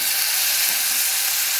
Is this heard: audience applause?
no